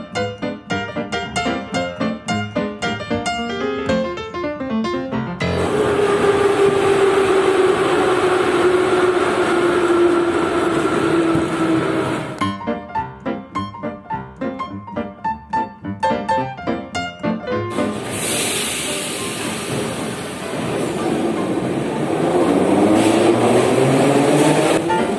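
An old Moscow commuter electric train with a 2-2-2 mask front running along the line: a steady loud rolling roar with rhythmic wheel clacks over rail joints and a long high whine, continuous and close for the whole stretch.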